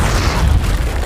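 A huge blast from a large planned demolition explosion, a loud sustained deep rumbling boom that fills the whole moment with low, rolling roar and no voices.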